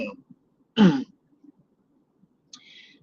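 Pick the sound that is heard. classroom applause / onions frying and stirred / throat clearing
throat clearing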